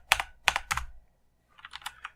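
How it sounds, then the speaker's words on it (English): Quick bursts of typing on a computer keyboard at a Linux terminal: three sharp close keystrokes, a short pause, then a lighter, faster run of clicks. "I am not typing well tonight."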